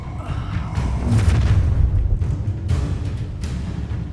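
An Incendio fire spell blast in the video game Hogwarts Legacy: a loud, deep whooshing boom that swells and rumbles for several seconds with crackling bursts on top.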